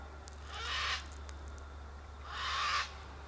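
A bird calls from high up in a gum tree on an autumn walk outdoors, giving two drawn-out, breathy hooting calls about a second and a half apart, fairly distant over a low steady hum.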